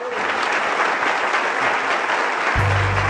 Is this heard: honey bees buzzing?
no